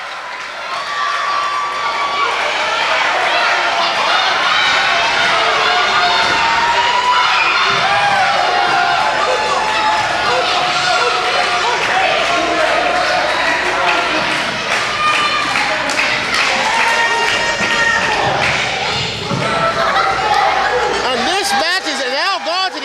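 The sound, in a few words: wrestling crowd cheering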